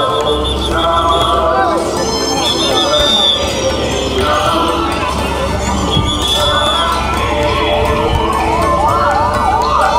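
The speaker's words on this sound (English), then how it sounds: "You can see the ambulance services." An ambulance siren wails with a repeating rising and falling tone through a dense, noisy crowd at the Puri Ratha Yatra street festival, with chatter and festival sounds all around.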